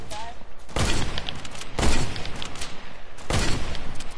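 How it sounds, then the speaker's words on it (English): Video game gunfire in loud broadband blasts roughly every second, layered with dense rattling battle noise and thumps, with voices talking among the shots. "People shooting?"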